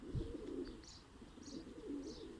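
Domestic performing pigeons (tumbler-type show birds) give soft, low repeated coos in a steady rhythm, close by, with a few faint higher chirps over a quiet background.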